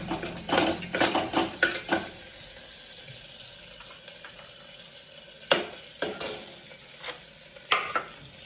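A spoon stirs moth beans with green chilli paste in a pan, giving soft scraping strokes and clinks close by, in bursts with quieter sizzling pauses between them.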